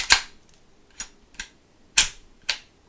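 Glock 19X handgun being slowly loaded, giving five sharp metallic clicks spaced unevenly over about three seconds, close and distinct against a quiet background.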